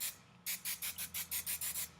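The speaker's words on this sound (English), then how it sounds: "you can always close your eyes there, Sarah, a little bit more hairspray." Hairspray from an aerosol can misted onto a performer's hair for a stage style, heard as about nine short hissing bursts in a steady rhythm, close and fairly loud, with no talking.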